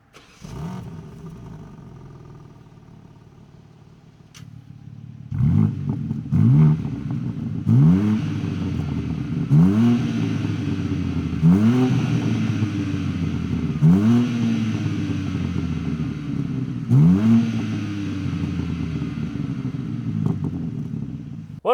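A 2023 BMW M3 Touring engine starts, then is revved repeatedly, with six or seven rising and falling throttle blips over a steady, loud, close idle rumble.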